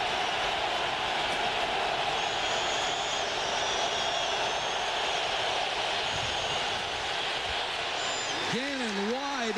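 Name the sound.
deafening stadium crowd noise at Raiders–Seahawks football game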